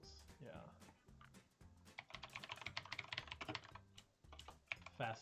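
Rapid typing on a computer keyboard sounds as a dense burst of close, crisp key clicks with brief pauses, while people talk around it.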